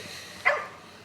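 A single sharp dog bark, fairly close, rising briefly out of a quiet outdoor background at a lakeside spot in British Columbia's mountain parks.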